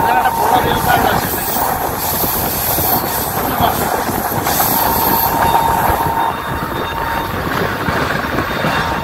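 Sikkim Mahananda Express rolls along rails through the Dooars elephant zone, a loud continuous rumble and rattle of carriages with wheel clatter and a thin metallic squeal running the whole time, heard from on board.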